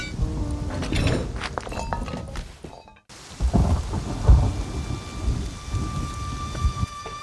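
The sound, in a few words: thunderstorm with heavy rain in the video game Rust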